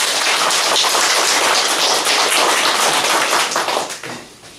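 An Easter Sunday church congregation claps together in praise, a thick, loud, continuous burst of applause that fills the space and then fades out near the end.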